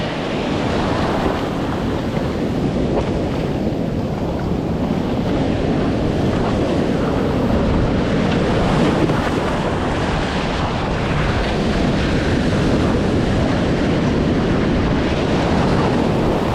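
Ocean surf rolls and crashes in a continuous loud roar, heavy wind buffeting the microphone throughout, with no voices.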